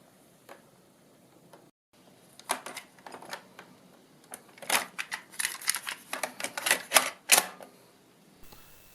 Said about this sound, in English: this is going in a tape drive